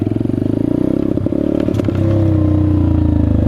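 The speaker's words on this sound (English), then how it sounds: "The Peace Moto, honestly, is a lot of fun doing wheelies on." A Peace Moto Chinese dirt bike engine chugs and revs close by during wheelie riding, with a steady rhythmic exhaust pulse, a brief clattery burst of revs, then a settled loud drone.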